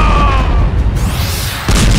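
A rocket explosion in a Skibidi Toilet animated battle, heard as a loud, dense booming burst that fills the clip, with a second hit near the end and no talk.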